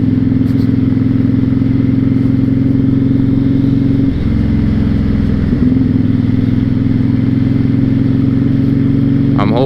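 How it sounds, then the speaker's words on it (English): A 2006 Honda VTX1300 motorcycle idles close by with a steady, deep, loping rumble that continues without a break. The pitch shifts slightly partway through. "It's like not too loud, but it idles real nice"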